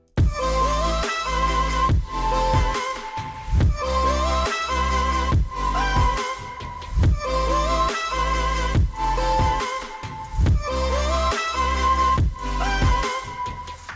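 A future bass track built from the Millennium preset and sample pack plays loud and up front, with punchy kicks, heavy sub bass and bright chord stabs in a repeating pattern of roughly two-second phrases.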